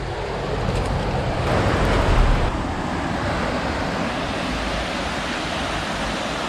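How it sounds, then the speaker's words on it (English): Steady rain over a swollen creek pouring out of a big tunnel, a dense continuous wash of water noise that swells briefly then holds level, with no talking. "it has started raining again."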